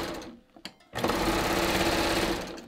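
Serger sewing machine chaining off at the end of a seam on a hiking belt, with a few short stitching stutters followed by a steady, fast mechanical whir running close and loud for almost two seconds before trailing off.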